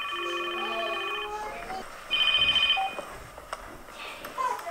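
Melodic electronic phone ringtone tones sound in a courtroom, one chirping phrase and then a second brief burst after a short gap, fairly clear against quiet background noise.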